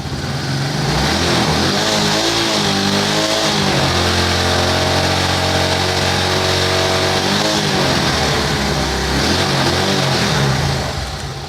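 A car engine with xenon headlights and a relay regulator runs loudly and close, revving up and settling back in slow swells over a steady idle, with no talking.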